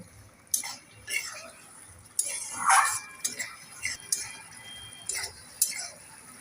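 A utensil scrapes and clinks against a pan as chopped tomato is stirred in for a sola kochu (taro stem) dish. The metallic taps come in irregular bursts over a quiet kitchen background.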